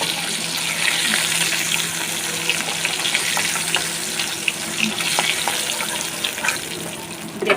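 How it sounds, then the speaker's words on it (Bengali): Hilsa fish frying in a shallow layer of oil, a steady close sizzle with scattered small pops and crackles running throughout, no talking. "এটা হালকাই ভেজে নিলাম"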